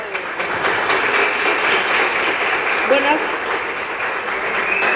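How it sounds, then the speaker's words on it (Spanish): Loud, sustained applause from a conference audience in a museum welcomes the director, thick continuous clapping holding steady throughout with faint voices underneath. "Un fuerte aplauso por favor para nuestra directora"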